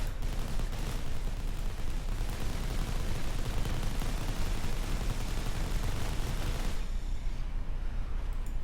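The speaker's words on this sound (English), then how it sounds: "Now that's the end of the Gatling cannon." Continuous rapid gunfire from a Gatling cannon in the real-time strategy game Rise of the Reds, a dense, loud, unbroken roar that holds for most of the span before cutting to quieter battle ambience near the end.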